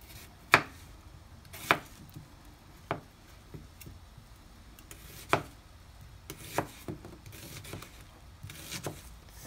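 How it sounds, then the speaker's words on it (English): An onion is chopped with a knife on a cutting board for a vegetable stir fry, with about a dozen crisp, irregular chops spaced across the clip, close and moderately loud over a quiet background. "this way is cutting onions really good"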